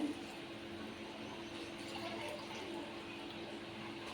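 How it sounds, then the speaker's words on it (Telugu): Water being poured into a cooking pot that already holds coconut milk for a chicken curry, a quiet steady trickling and splashing fill heard close, with no speech. "కొన్ని నీళ్ళు కూడా యాడ్ చేస్తానండి"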